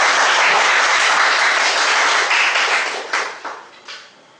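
Audience applause at a speakers forum club meeting, a dense steady wash of many hands clapping that thins and tapers off toward the end with a few scattered final claps.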